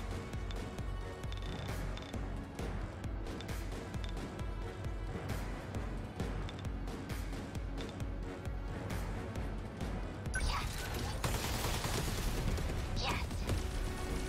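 Gunfire in the video game 13 Sentinels Aegis Rim, a sustained barrage of rapid repeated shots and booms layered over game music, swelling into a louder burst of explosions near the end.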